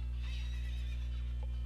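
A horse in the video game Ocarina of Time gives a short neigh over a steady loud electronic hum.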